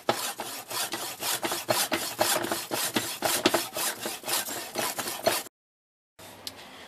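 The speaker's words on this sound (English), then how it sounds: "just a wood saw, and it will" A hand wood saw cuts with a steady run of quick, rhythmic rasping strokes close by, then stops abruptly for a silent pause before a quieter stretch follows.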